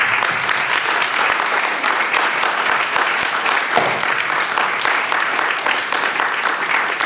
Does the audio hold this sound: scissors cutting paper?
no